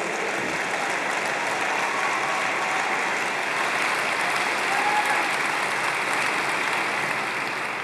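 Sustained applause from a big AIPAC conference crowd honoring Esther: a broad, continuous roar of many hands clapping at a constant level, with no voices over it for nearly eight seconds.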